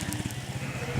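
Sheep bleat faintly in an open field on the Pennine Way near Bellingham as sheepdogs pen them, a brief low, muffled bleating under wind noise.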